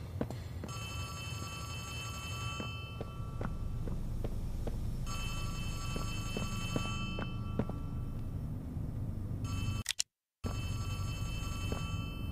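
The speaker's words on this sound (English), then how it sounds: "Why is there a phone ringing?" A telephone rings repeatedly in Poppy Playtime Chapter 3, a steady electronic bell tone over low game ambience, with a sharp dropout near the end.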